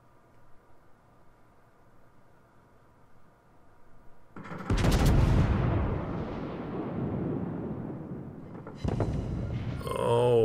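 Heavy naval gun turrets of the battleship West Virginia 1941 in World of Warships fire in a massive roaring blast after a quiet lead-in, the rumble decaying slowly before a second salvo booms near the end.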